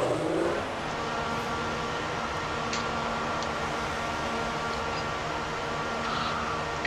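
F1 2014 racing car engine held at a steady, moderately loud drone during a pit stop at Sochi, with a brief louder swell at the start and faint clicks over the continuous hum.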